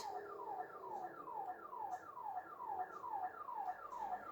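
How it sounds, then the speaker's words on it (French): House alarm sounding in a police video game, a faint, distant electronic siren with regular falling sweeps repeating about twice a second. "Donc t'as l'alarme de la maison là qui sonne."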